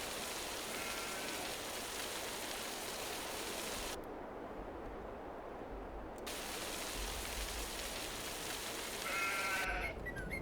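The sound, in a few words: sheep bleating in video game Farming Simulator 22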